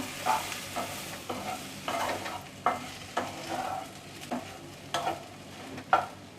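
Mashed potatoes and moth beans being stirred in a pan, a series of rhythmic spatula scrapes and knocks about once a second over a soft sizzle, close by and alone without speech.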